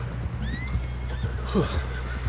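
A horse whinnies loudly and close in Red Dead Redemption 2, a rising then falling call, over a low steady hum and a few soft hoof knocks.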